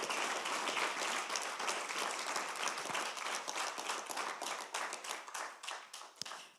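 Warm applause from the audience at the Silver Rose Awards ceremony, a dense steady wash of many clapping hands that thins toward the end, with a few sharp separate claps.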